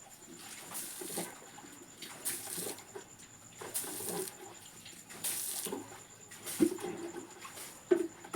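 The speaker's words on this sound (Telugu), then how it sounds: "చల్లుకుంటాం. ఇది మాది కల్లాపు అంటారు." Water being splashed and sprinkled by hand onto a village dirt ground in the traditional kallapu manner, coming in repeated bursts of wet spattering at close range, with birds chirping faintly behind.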